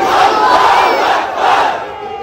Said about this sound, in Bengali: এটা পুরুষ গুলার মতো একটা আওয়াজ দেন, নারায়ে তাকবীর